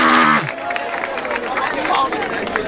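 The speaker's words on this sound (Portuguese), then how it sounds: "Uma salva de palmas pra Tsunami aí" An audience at a rap battle in Barueri, São Paulo, breaking into loud, dense clapping and cheering that fills the space after a brief voice at the start.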